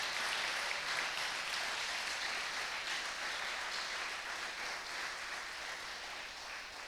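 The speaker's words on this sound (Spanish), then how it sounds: "es digno de que le des un aplauso ahora, fuerte" A church congregation applauds at a worship service, a dense, steady wash of clapping that holds for several seconds and eases off slightly toward the end.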